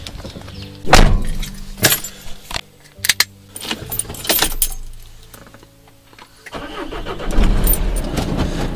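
A car starting up after keys jangle and a door thunks shut, the engine catching and settling into a steady run before pulling away, with no one talking.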